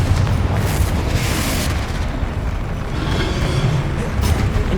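Confringo explosion spell in the Hogwarts Legacy game, a sustained loud rumbling blast with booming, crackling bursts that swell and fade, heard close and alone without talk.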